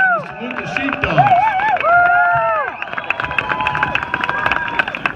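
A crowd at a political rally outside the Michigan State Capitol claps and cheers loudly and continuously. A voice can be heard over the applause.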